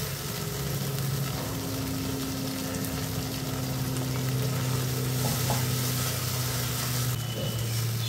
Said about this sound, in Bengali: সর্ষে আর চার মগজের পেস্টকেও 1 মিনিটের মতো ভেজে নেব।